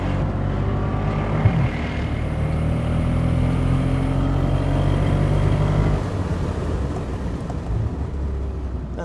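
A Mercedes SL63 AMG or BMW M6 on a track, its engine pulling hard out of a chicane: a loud, sustained, steady roar with rising harmonics that eases slightly toward the end.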